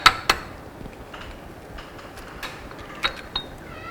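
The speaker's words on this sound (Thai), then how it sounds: "มันต้องตอกไข่ใส่ลงไปแต่ว่าไข่แดงห้ามแตก" A few sharp cracks and taps of an egg being broken against a bowl, close and distinct, with quiet handling sounds between them.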